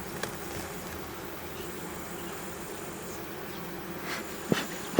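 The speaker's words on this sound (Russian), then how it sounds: "мало здесь пчел-то, мало рабочих-то пчел" Bees in a thinly populated beehive buzz in a steady, fairly quiet drone throughout, with a few faint knocks and a short handling clatter near the end.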